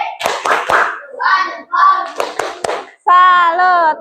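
A classroom group doing a rhythmic 'tepuk salut' clap pattern: a few sharp, distinct claps in a patterned rhythm alternating with chanted voices, ending in a sustained sung or chanted phrase.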